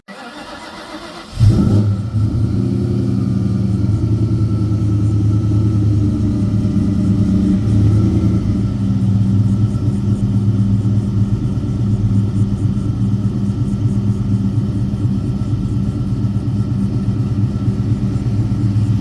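A 2003 Sonic Blue Ford SVT Cobra fires up after a brief quiet moment and holds a deep, loud, steady engine rumble that stays strong and close as it pulls away, with no voices.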